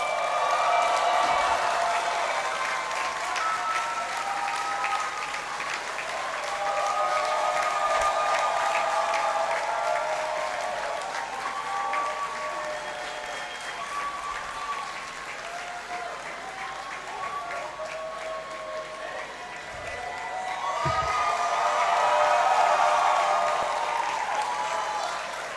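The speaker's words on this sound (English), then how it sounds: "With a round of applause, join me to welcome Mami Adjoa Jesua Edu." At a university graduation congregation in a great hall, sustained audience applause carries on for a long stretch, mixed with voices and some tonal sound, swelling near the end.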